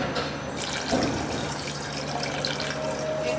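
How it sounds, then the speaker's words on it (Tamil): Two glasses of water pour into a pot of Tamil-style mutton kozhambu, a short splashing gush that trickles off into drips, close and clear. "இப்போ வந்து நம்ம வந்து 2 கிளாஸ் தண்ணி ஆட் பண்ணிக்கிறோம்"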